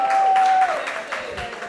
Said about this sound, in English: A round of applause for Digicel.